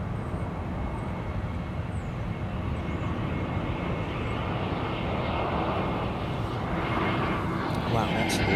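An Airbus A380 flies low over London Heathrow Airport, its engines a steady, broad roar that holds loud and constant throughout, with faint voices in the background.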